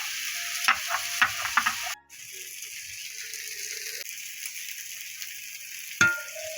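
Lotir torkari sizzles in a pan with onion paste and chili paste, opening with scraping spatula strokes, then settling into a soft, steady frying hiss with an occasional clink.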